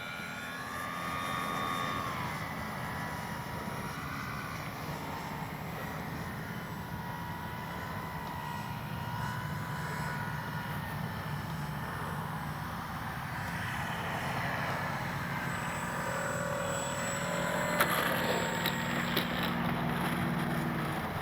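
A Dynam BF-109 RC warbird model airplane drones overhead in a sustained engine whine on a final pass, swelling slightly louder mid-run and holding steady with faint wind noise and no talk.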